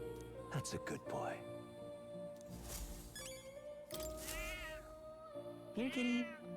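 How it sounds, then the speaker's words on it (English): A cat in the Metaphor: ReFantazio video game meows several times, with rising, wavering cries spread across the stretch, over steady game music and ambient tones. "This cat, you see."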